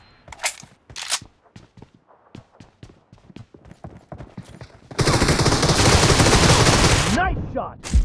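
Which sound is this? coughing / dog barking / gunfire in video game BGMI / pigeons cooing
gunfire in video game BGMI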